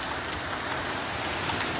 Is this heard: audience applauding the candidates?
no